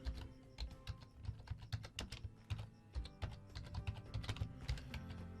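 Rapid, uneven clicking of keys on a computer keyboard as text is entered into a website builder, close and fairly quiet, no voices.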